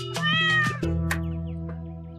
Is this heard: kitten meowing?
yes